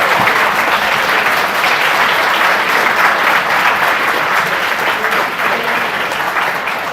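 Loud, sustained applause fills the room at a party convention assembly, dense clapping from a large audience holding steady throughout with a faint crowd murmur beneath.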